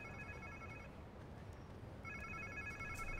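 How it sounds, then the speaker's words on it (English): Rings from a phone in a Spider-Man 2 video game scene come in two spells of rapid electronic trilling with a short gap between them, sitting faintly over a steady low ambient hum. "Nie je tu zvoný telefon."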